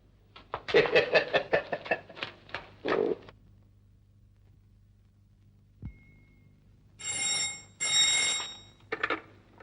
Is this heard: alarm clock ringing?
yes